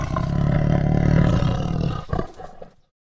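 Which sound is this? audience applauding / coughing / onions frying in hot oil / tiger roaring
tiger roaring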